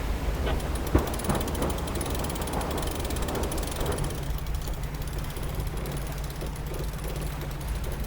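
A sailboat's tailing winch ratchets as a sail is trimmed on a long sail, a continuous clicking pawl and gear rattle close by over wind and water noise.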